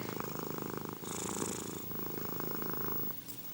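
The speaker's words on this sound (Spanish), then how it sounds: "¿Cómo es el ronroneo? Este ruidito que hacen de..." A cat purring up close, a steady rhythmic rumbling with regular breaths in and out, soft and continuous with no other sounds.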